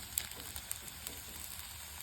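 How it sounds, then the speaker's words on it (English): Faint, steady sizzling of eggs frying in a pan without oil, with small crackles and pops scattered through the quiet hiss. "This is like you're frying your egg."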